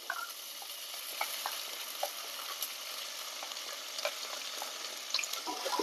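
Finely chopped ginger frying in a pan for a chicken stew: a quiet, constant hiss dotted with small crackles and pops, no talking.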